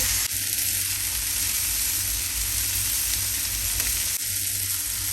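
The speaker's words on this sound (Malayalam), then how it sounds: "ഇടയ്ക്കൊക്കെ അത് തിരിച്ചും മറിച്ച് വിട്ട് കരിയാതെ നമുക്കത് വറുത്തെടുക്കാം" Masala fish sizzles steadily in a pan over low heat, a constant close frying hiss with two short bursts of stirring or turning partway through.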